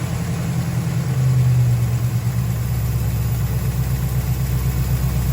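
A 1973 Dodge Challenger big block V8 idles unusually high, a steady, loud low rumble holding an even pitch throughout with no talking.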